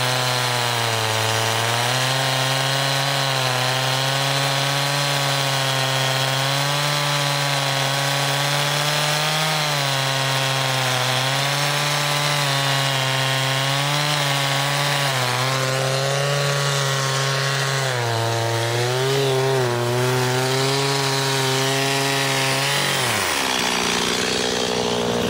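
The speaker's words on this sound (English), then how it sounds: "we're cutting it all with our MS-260 still." Stihl MS-260 chainsaw cutting through a large, moldy dead tree more than 16 inches across, the engine droning loud and steady under load for over twenty seconds before dropping off near the end.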